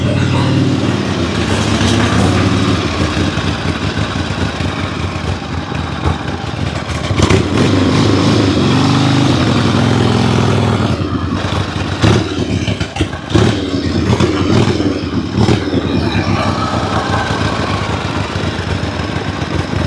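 A 1974 Harley-Davidson Ironhead chopper motorcycle rumbles loudly and continuously on a test ride, its engine revving and easing with mechanical clatter throughout, close and dominant with no talk.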